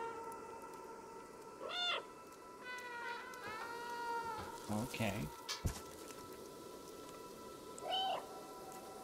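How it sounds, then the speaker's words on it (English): Several synthetic cat meows from the game Stray, short rising-falling calls spaced a few seconds apart over steady background music, with a brief spoken word. "So I can meow and they respond."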